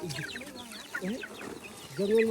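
Hens clucking by a cattle shed in a forest, in short, repeated bursts, fairly close, with higher chirps mixed in and a louder drawn-out call at the end.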